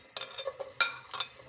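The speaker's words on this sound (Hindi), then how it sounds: "मेरा ऑयल जो है गर्म हो गया। अब मैं इसमें प्याज डालूंगी।" Chopped onions dropped into hot oil in a pan, heard as short close bursts of sizzling with brief stirring sounds, quite quiet and without talk.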